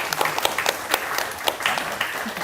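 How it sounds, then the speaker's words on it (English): An audience at an art gallery panel discussion claps in a short burst of applause, lively and close, with the individual claps clearly audible. "Let's give these guys a round of applause."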